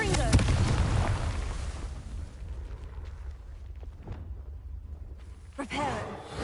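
A Confringo fire spell blasts in Hogwarts Legacy on PS5, a loud booming burst at the start that rumbles and fades into a low roar before a second, smaller flare near the end.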